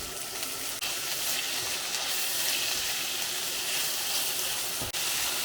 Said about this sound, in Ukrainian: поки м'ясо буде смажитись хвилин 10